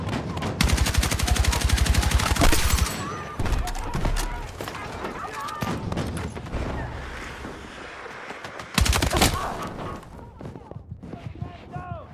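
Rapid bursts of video game gunfire ring out loud and close over a shooter match, with one more heavy blast near the end as a player talks throughout.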